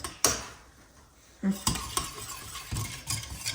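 A cream mixture is whisked in a pot for a creamy iftar dish, giving a run of quick metallic scrapes and taps of the whisk against the pot, close and fairly soft, with no voices.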